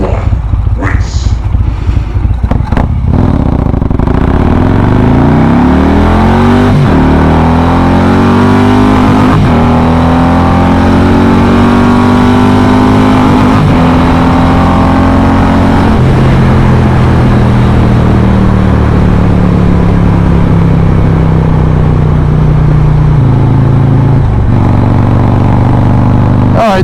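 A 2020 Harley-Davidson Road Glide Special with a 114 engine and Stage 2 tune accelerates hard through the gears, its loud, rising engine roar climbing in pitch between shifts over heavy wind buffeting.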